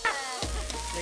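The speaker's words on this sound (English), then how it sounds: "Just keep stir like this until your vegetable cooks." Mushrooms and vegetables stir-fry in a hot pan at a jungle farm in Thailand, a steady close sizzle with scraping stirs and a sharp burst as food hits the pan partway through.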